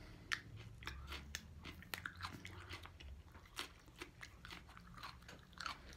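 Close, wet biting and crunchy chewing of a raw habanero pepper, a steady run of crisp crunches and mouth sounds over about six seconds with no talking.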